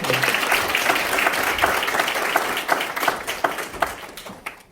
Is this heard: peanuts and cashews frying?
no